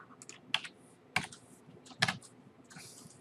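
Keys tapped on a computer keyboard during a JavaScript coding demo, a few sparse, fairly quiet clicks in small bursts with pauses between, no talking.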